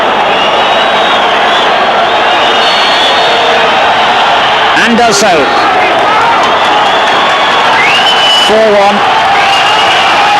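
Large stadium crowd at a 1989-90 Liga football match between Real Madrid and Osasuna roars loudly and steadily after a penalty goal, a dense continuous din under a commentator's voice.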